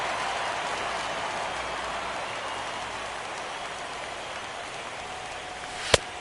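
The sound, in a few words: heavy rain in MLB 17 video game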